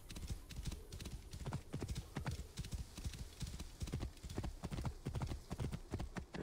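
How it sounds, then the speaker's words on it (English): Hooves clip-clop in a quick, steady trotting rhythm, close and continuous throughout, from a horse in the video game Assassin's Creed: Origins. "This must be Mered's horse."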